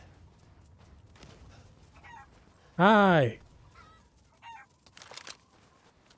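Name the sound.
chickens clucking in the video game Resident Evil Village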